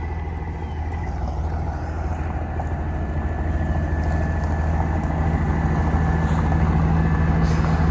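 A large work truck with air brakes runs near and steady, its diesel engine droning loudly with a low rumble that builds slightly throughout, no voices over it.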